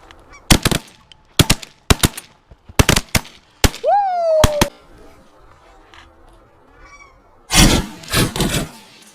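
Shotgun shots during goose hunting over silhouette decoys, a rapid volley of loud, sharp blasts at close range, with honking geese calling between shots and a final cluster of shots near the end.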